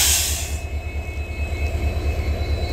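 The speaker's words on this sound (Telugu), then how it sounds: "ఇది WDP 4D 40204 train number. Engine గుత్తిలో manufacturing అయింది." A passenger train hauled by WDP 4D diesel locomotive 40204 rolls past close by, its wheels thumping in a steady rhythmic clatter over the rail joints, with faint squealing and no voices.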